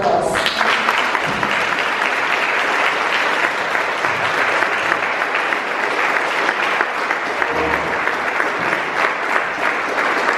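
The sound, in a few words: applause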